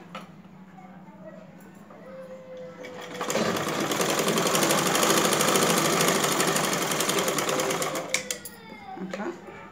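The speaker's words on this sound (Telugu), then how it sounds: "ఇట్లా మడుచుకున్న తర్వాత హ్యాండ్ యొక్క లూజు చూసుకొని కుట్టు వేసుకోవడమే అండి." A sewing machine stitching a blouse hems a one-inch folded strip, its fast steady needle chatter building up loud and close for several seconds before stopping, with a low motor hum before and after.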